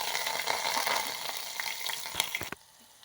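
Green chillies hit hot oil with mustard seeds in a pot on a gas stove, giving a soft, crackling sizzle with scattered pops that cuts off abruptly near the end.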